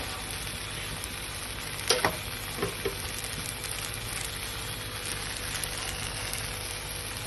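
A vegetable paratha sizzling on a hot pan after being flipped, a steady hiss of frying oil with a few soft clicks of handling partway through.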